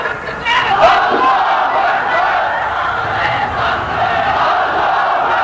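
A large crowd shouts Allahu Akbar in unison in reply to a Nara-e-Takbir call at a religious gathering: one loud, roaring group chant that holds for several seconds.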